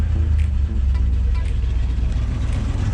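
A 1966 Oldsmobile Toronado engine idles steadily with a loping, slightly uneven rumble from its stock camshaft. The low throb stays close and continuous, with no talk over it.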